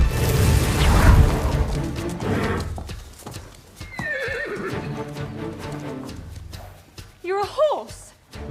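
A horse clip-clops and neighs close by, with heavy hoof noise early on and a loud whinny later, mixed with dramatic effects and speech.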